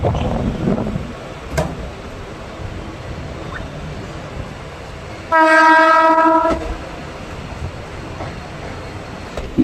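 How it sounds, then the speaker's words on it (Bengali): A diesel locomotive approaches on a suburban line near Kolkata, its horn blaring loud in one sustained multi-tone blast of about a second over steady rumbling rail noise, with a faint earlier toot. "এবার আমাদের সাথে দেখা হবে ডিজেল লোকোমোটিভ। এই দেখুন আসছে।"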